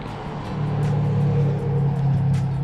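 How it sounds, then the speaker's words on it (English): A big truck passing on a nearby highway beside a motorcycle campsite, a steady low rumbling drone that swells and holds throughout without fading, with no talk. "So a big truck just went by."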